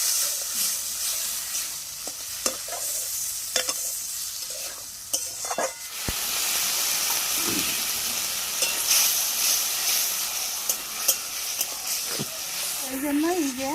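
Chili, cumin and ginger paste fries in oil for a village-style chicken curry, with a steady close sizzle and hiss broken by scraping stirs of a spoon against the pan and a voice nearby.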